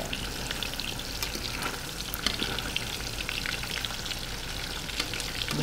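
Tofu frying in a pan until golden brown for chicken adobo, a steady dense crackling sizzle with scattered sharp pops, close and even throughout.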